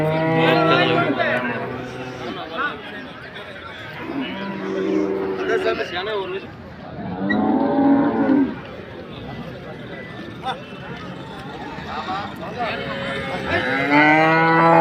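Dairy cows lowing repeatedly at the busy Anthiyur cattle market: several loud, drawn-out moos in sequence, close by, with people talking throughout and faint hoof clatter beneath.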